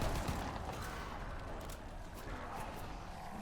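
Dense, steady gunfire from weapons in the survival game Altar of Blood, a loud continuous clatter of rapid shots layered over a rumbling low-end mix, with no clear pauses across the stretch.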